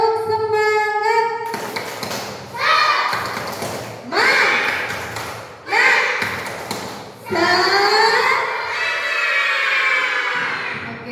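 Schoolchildren in an Indonesian madrasah classroom perform the tepuk semangat clapping chant, rhythmic bursts of claps and voices repeating in several loud phrases, led by a teacher's voice at the start.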